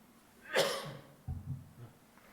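A pastor's single sharp cough during a sermon, then a softer throat-clearing rumble shortly after, fairly close and moderately loud, no talking.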